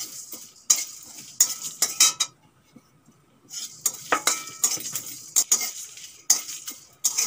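Cumin seeds tipped into a pan of frying coriander, dried red chilli and bay leaf and stirred, with a faint sizzle and repeated sharp scrapes and clinks of a metal spatula in bursts separated by a short pause.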